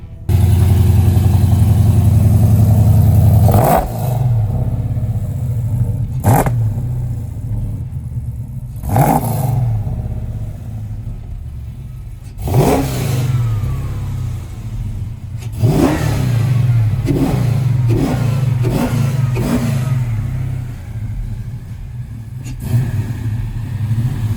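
The V8 engine of a custom 1971 Plymouth Cuda fires up and settles into a loud, lumpy idle, then repeated sharp throttle blips rev it up and let it fall back.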